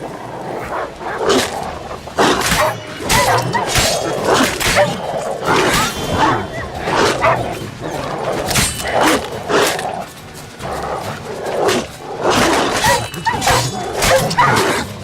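Dogs in The Witcher 3: Wild Hunt video game barking and whimpering, loud sharp barks and yelps repeating steadily throughout with a faint voice now and then.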